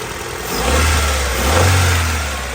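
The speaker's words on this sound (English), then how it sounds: "Idle's pretty good." A 1990 Honda Civic with a swapped ZC DOHC engine runs steadily nearby, its low rumble swelling twice as the revs rise slightly and settle back toward idle.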